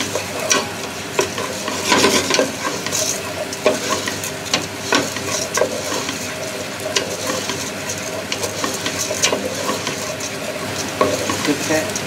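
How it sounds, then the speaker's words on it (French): Rice for risotto stirred with onions and olive oil in a hot pan, a steady sizzle under repeated scraping and clinking strokes of the spoon, close and continuous with no talk. "On va bien mélanger ensemble pour faire nacrer le risotto, donc qu'il soit bien enveloppé des oignons et de l'huile d'olive."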